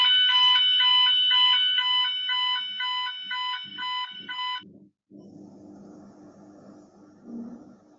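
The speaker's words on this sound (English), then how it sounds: "That's a scheduled fire alarm, happens every Wednesday" A scheduled weekly building fire alarm blares a loud, steady electronic tone for several seconds, then cuts off, leaving a quiet room with faint clicks and low background noise.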